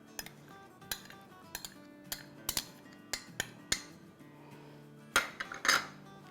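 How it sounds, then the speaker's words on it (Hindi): Yogurt mixed with ginger, garlic and green chili in a bowl, a spoon clinking and knocking against the bowl in irregular taps, then a brief rougher scraping near the end, close and otherwise quiet. "और अब हम इसको मिक्स करेंगे।"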